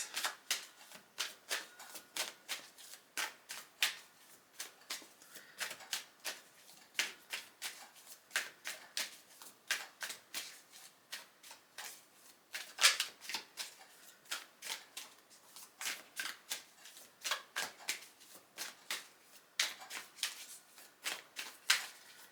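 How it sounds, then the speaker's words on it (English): Tarot cards being shuffled over and over in quick riffling bursts, a dense crackling flutter that repeats steadily, close by, with no voices. "You're having a big shuffle today"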